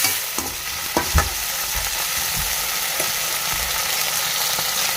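Onion and a tomato fried together in a pan, a loud, dense sizzle running steadily with occasional knocks and scrapes of stirring near the start.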